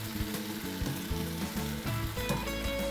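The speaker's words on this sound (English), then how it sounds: "We're just gonna let that simmer for a little bit with the tomatoes in it." Sauteed greens with garlic, cumin and tomatoes simmer in a pan, giving a steady close sizzle with small popping crackles throughout and no talk.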